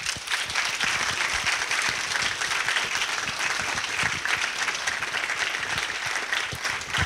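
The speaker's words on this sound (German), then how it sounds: "begrüßen Sie Jan Harlan" An audience at a German talk event on Stanley Kubrick applauds to welcome a guest, with dense, sustained clapping throughout that stays loud and even from start to finish.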